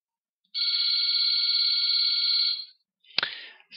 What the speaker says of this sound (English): So we'll ignore the phone for now.